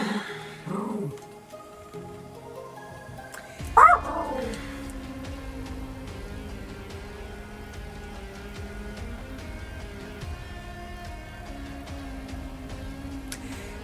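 A dog barks sharply a few times, then whimpers and yips, indoors and fairly close, over a steady low background hum with no talking.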